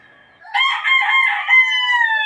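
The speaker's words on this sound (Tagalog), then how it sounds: "Napakagandang manok." A gamefowl rooster crows loudly and close by, one long drawn-out call that breaks into a wavering middle and trails off into a sustained tail, with no one talking over it.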